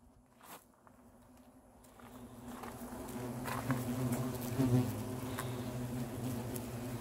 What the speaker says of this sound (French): Le frelon européen.